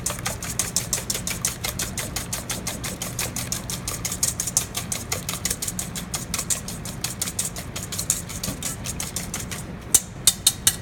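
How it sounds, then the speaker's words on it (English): Eggs for an omelet are whisked fast and hard in a bowl, giving a close, even stream of rapid ticking strokes, with a few separate taps at the end. "you want to make sure you're whisking thoroughly"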